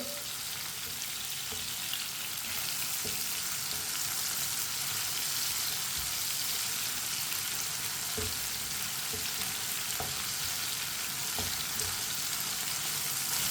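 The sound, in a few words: tomatoes frying in a pan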